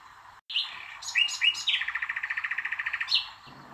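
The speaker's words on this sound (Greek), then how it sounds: "ένα αηδόνι μαγεμένο από την ομορφιά του παλατιού άρχισε να τραγουδάει στον κήπο του." A nightingale sings in a palace garden: a short burst of bright chirps and whistled notes, then a fast, even trill of about a dozen repeated pulses, close and clear, ending with a final rising call.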